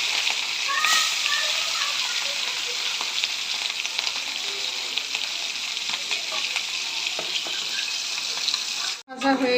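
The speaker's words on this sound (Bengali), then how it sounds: "তেল গরম হয়ে গেছে, মাছ দিয়ে দিব।" Hilsa fish fry in hot oil in a loud, continuous bright sizzle with crackling pops throughout, ending with a brief dropout at the close.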